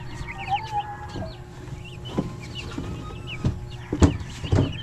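Five-day-old broiler chicks peep and chirp continuously and close by, with a few louder cheeps standing out near the end over a low background hum.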